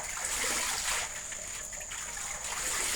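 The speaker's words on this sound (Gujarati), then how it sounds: "લીમડા ધોવાથી લીમડામાં રજ નીકળી જાય અને એકદમ તાજો રહીએ" Neem leaves are washed in water, a continuous close swishing and trickling of water being stirred and poured, steady and fairly loud with no talk.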